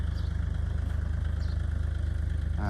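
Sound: Kubota tractor four-cylinder diesel engine running

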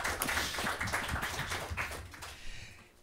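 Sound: audience applause

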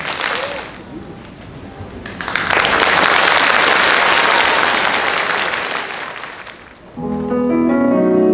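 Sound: audience applause for piano four-hands performers

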